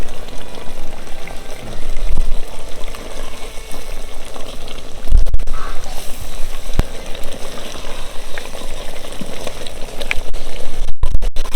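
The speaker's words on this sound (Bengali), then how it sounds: "মাংসটা ভালো করে কষে নিচ্ছি।" Country chicken meat sautéing in oil in a clay pot for a red curry, a steady loud sizzle with bubbling and occasional stirring scrapes and knocks close by.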